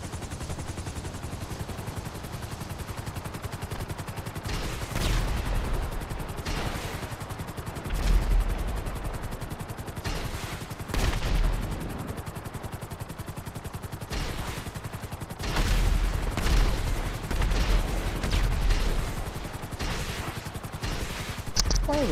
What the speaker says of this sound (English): Why are we shooting rockets all over the place?